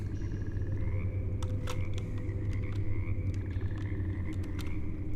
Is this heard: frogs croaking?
yes